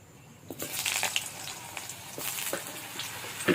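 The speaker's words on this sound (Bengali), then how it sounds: "তো তেল গরম হয়ে গেছে, একে একে আমি সবজিগুলো দিয়ে দেবো" Potato, eggplant, beans and radish drop one by one into hot oil, with crackling bursts of frying over a steady sizzle, close and moderately loud.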